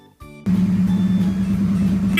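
A single car on a road, sounding as a loud, steady engine drone that begins abruptly after a brief quiet and holds close and even throughout, with a faint tonal toot near the end.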